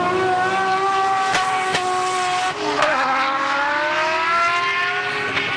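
A Euphoric Motorsport Laurel drift car screams at high revs through a competition run, its engine note holding loud and close, dipping briefly, then climbing again, with sharp pops and tire noise mixed in.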